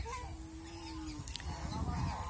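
Ducks honk and call nearby over a low rumbling background, several cries overlapping without a clear rhythm.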